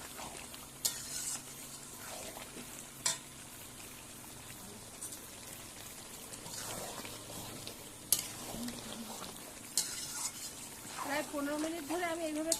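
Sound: chicken with dried chili paste being sautéed and stirred in pan

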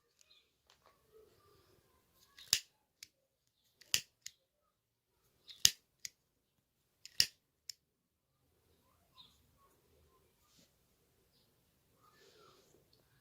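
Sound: scissors cutting purple yarn for crochet motif

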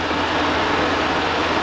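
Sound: air conditioner starting up

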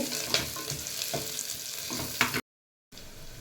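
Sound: curry leaves added to frying onions

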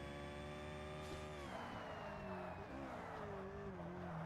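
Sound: Ferrari supercar engine in Forza Motorsport video game

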